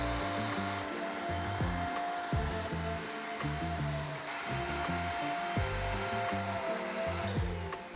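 Carpet cleaner sucking soapy water up from a carpet, a steady loud motor whine with harmonic hum and repeated rhythmic clunks and gurgles as the head is pushed and pulled, no talk.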